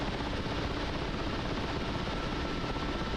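A helicopter flying in the DCS World combat flight simulator gives a steady, dense rotor and turbine roar that stays even and close throughout, with no voices.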